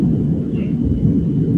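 A heavy, steady low rumble of thunder rolls on continuously, loud and enveloping throughout, with no speech over it.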